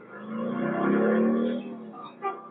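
A motorcycle engine revs up and holds a steady drone during a road test, near and fairly loud, then eases off with a short blip at the end.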